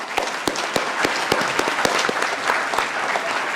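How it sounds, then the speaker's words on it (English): An audience at a hemp research panel applauds the panelists, many hands clapping in a full, busy wave with a few sharper individual claps standing out, and no talking. "let's have a round of applause for our panelists."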